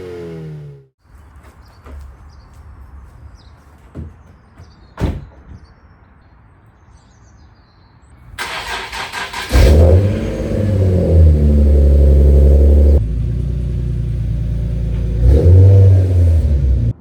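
Door sounds and soft movement give way to a Nissan 370Z starting up and pulling away, its engine revving loudly and steadily for the last several seconds with no talking.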